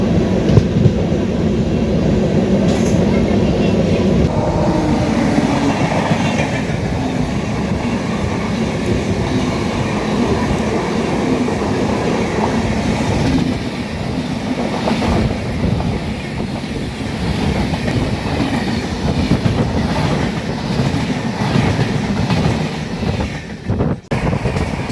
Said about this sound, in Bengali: আর ওদিক থেকে দূর থেকে একটা ট্রেন আসছে।